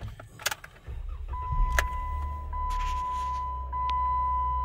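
A 2013 Jeep Wrangler heard close from inside the cab: keys jangle, a chime sounds, then the engine cranks and catches into a steady low idle rumble, with a continuous dashboard tone over it and no talking.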